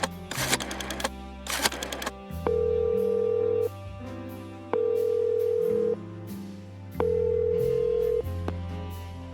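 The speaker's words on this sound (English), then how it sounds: "Marty always answers the phone, no matter how late I call" A telephone rings unanswered in the video game Chicken Police: three long, steady ring tones with silent gaps between them, preceded by a few sharp clicks.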